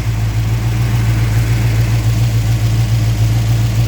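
A Mopar 340 V8 with electrical issues idles steadily up close, a loud, even low rumble with a constant throb throughout and no voices.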